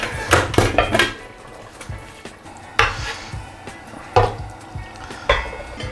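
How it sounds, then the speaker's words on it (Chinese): White radish being poured into a pressure cooker of braised beef brisket: a few clattering bursts of chunks hitting metal, spaced irregularly, fairly close and moderately loud without talk. "接下来把这白萝卜倒到高压锅中一起去压一下它"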